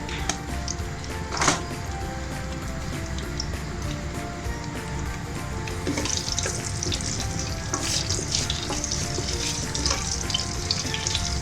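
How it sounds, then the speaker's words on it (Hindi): Whole spices, cinnamon sticks, black peppercorns and cardamom, roasting in a hot pan, with a steady dense sizzle and frying crackle throughout and occasional louder stirring scrapes. "एक मिनट इसको भूनती हूँ"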